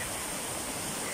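Steady rushing water pours near an old disused mill in Greece, a broad continuous wash like a small weir or stream, heard alone at moderate distance with no talk.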